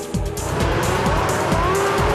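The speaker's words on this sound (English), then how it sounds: "Each glorious-sounding V12 750 brake horsepower car is identical" A 750 brake horsepower V12 Superleague Formula race car engine screams at high revs while racing at Magny-Cours, loud and close, with rising and falling gear-change sweeps and a touch of tyre squeal.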